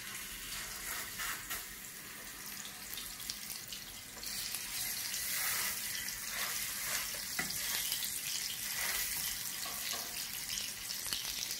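Beef patty frying in a pan for a quick burger, a steady close sizzle that grows louder and denser partway through, with soft scraping and stirring clatter on top and no talking.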